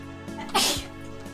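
A single sharp sneeze bursts out partway through, loud and close, with a faint murmur of game audio in the background.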